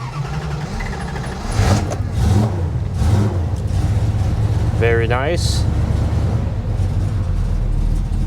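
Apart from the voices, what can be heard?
1967 Plymouth Belvedere 440 big block engine starting and idling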